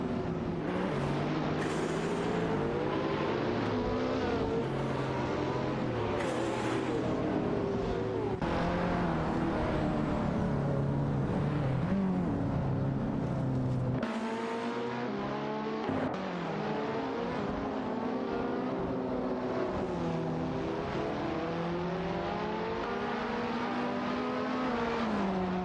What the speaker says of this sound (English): It's a Porsche Carrera GT against a McLaren 675 Alt.